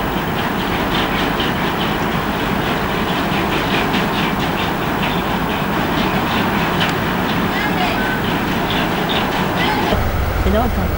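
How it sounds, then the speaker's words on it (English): On board a train pulling into a station in first class, a steady rumbling roll with rhythmic clickety-clack of wheels over rail joints, loud and close, with a brief on-board announcement-like voice near the end. "Air train just coming into the station."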